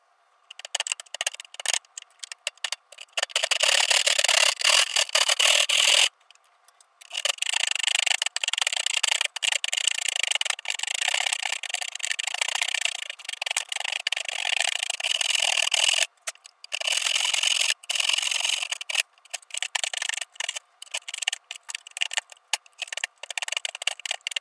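Hand file rasping G10 fiberglass and epoxy on a P-26 Peashooter model repair, in steady back-and-forth scraping strokes. The filing comes in long runs with short pauses and no talking.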